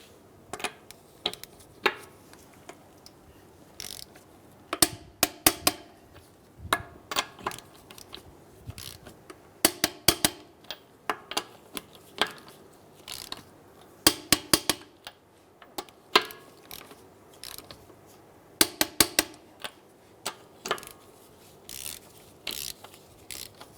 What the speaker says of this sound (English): We're going to torque down our lug nuts to 85 foot-pounds, and we're going to do it in a crisscross pattern.